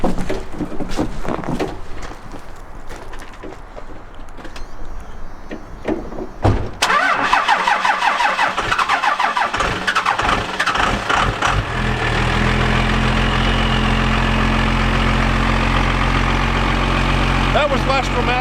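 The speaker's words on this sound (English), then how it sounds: "we're going to go ahead and give this thing a cold start because why not?" A truck engine cold-starting after a short crank, then settling into a steady, loud, rumbling idle that holds to the end, with people talking nearby before the start.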